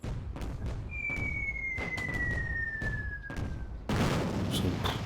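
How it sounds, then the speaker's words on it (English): Airstrike explosions in the Attack at Dawn: North Africa wartime strategy game, a loud run of booming blasts and thuds with a descending whistle of an incoming shell, ending in a sustained heavy rumble. "we've now got an airstrike coming in"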